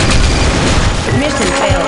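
A grenade explodes in Counter-Strike, a loud, close boom with a rumbling tail and scattered crackling debris, followed by fainter secondary clatter.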